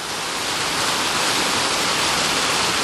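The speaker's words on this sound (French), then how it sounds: "Alors Fabrice, tu reconnais la cascade?" Constant roaring rush of falling water, loud and close, a dense unbroken wash of noise.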